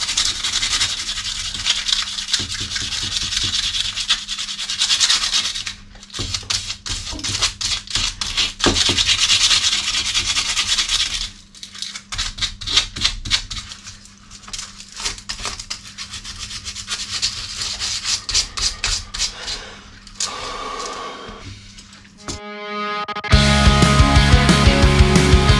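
A bicycle part from a second-hand bike is sanded by hand with sandpaper in rapid rasping back-and-forth strokes, loud and close, with brief pauses between bursts and a harsher noise at the end.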